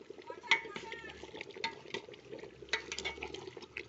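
A pot of mutton curry is stirred, with a ladle scraping and clinking against the vessel over a soft bubbling simmer, the sounds close and moderately quiet.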